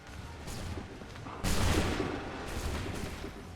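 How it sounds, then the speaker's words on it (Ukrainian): Musket volleys boom in Assassin's Creed 3 battle gameplay, a heavy rolling blast swelling midway after quieter distant reports, with no talk over it. "З таких рушниць всі стріляєте так влучно."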